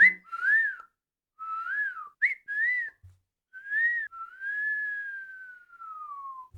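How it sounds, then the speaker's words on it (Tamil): Dolphins whistling to call one another: a string of clear, rising and falling tonal whistles, several short ones followed by a long gliding note that slowly falls, heard alone against silence. "டால்ஃபின்ஸ் மற்ற டால்ஃபின்ஸை பேர் வச்சு தான் கூப்பிடுமா. அதை நம்ம கேட்டோன்னா ஏதோ விசில் அடிக்கிற மாதிரி இருக்குமா"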